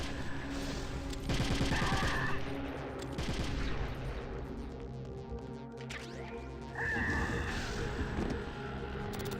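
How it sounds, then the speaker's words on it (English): Repeated gunfire from a top-down shooter video game, rapid bursts of shots in clusters across the clip with some crashing impacts, dense and loud throughout. "So just fire out the bullets"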